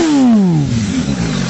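MV Agusta F4 motorcycle engine blipped hard, a loud high rev that falls away quickly into a lumpy idle burble, close by.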